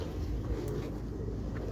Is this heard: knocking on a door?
no